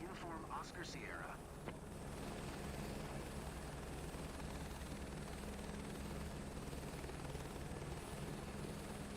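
A helicopter flies in Microsoft Flight Simulator 2024, with a continuous loud rotor and turbine drone holding steady throughout, and a brief voice near the start.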